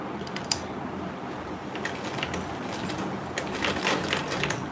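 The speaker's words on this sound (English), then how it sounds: "Then I'll sew on that line." A sewing machine runs steadily while stitching a fabric mini grocery tote bag. Its dense mechanical whir continues close and evenly, with small bumps in level, and no one talks.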